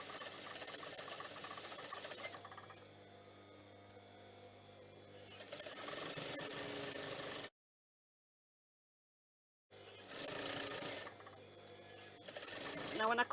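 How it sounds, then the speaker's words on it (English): A sewing machine stitches along a seam while sewing shirring elastic into a top, a steady mechanical whir that runs for several seconds, stops briefly and then starts again. "I'm going to stitch in the ditch till I get to my next blue line."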